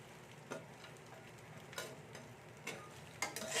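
Cooked rice is stirred in a frying pan over high gas, quiet spatula scrapes and taps recurring every second or so above a faint, steady frying hiss.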